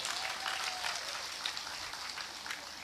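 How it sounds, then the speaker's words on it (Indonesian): Crowd applause at a live religious lecture gathering, a soft, fairly distant patter of many hands clapping, continuous and even throughout without distinct voices. "Tepuk tangan untuk Anda."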